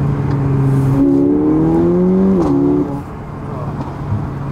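Mercedes-Benz CLA45 AMG with 381 hp accelerating hard on kickdown, engine note rising steadily in pitch for about two seconds then dropping off, loud and close inside the car, with voices talking over it.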